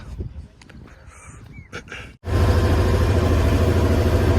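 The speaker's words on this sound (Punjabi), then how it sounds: "ਅੱਜ ਫਿਰ ਇਹਨੂੰ ਰੋਟਾਵੇਟਰ ਮਾਰੀ ਜਾਂਦੇ ਆ ਤੇ ਆਵੇ 45 ਹਾਰਸ ਪਾਵਰ ਵਾਲੇ ਬਟਨ ਤੇ ਚੱਲਦਾ ਪਿਆ" Tractor engine in a field running a 10-foot Novo 655 rotavator at 45 horsepower: a quieter stretch with brief noises, then a loud, steady, close-up drone with a strong low rumble that starts abruptly and holds.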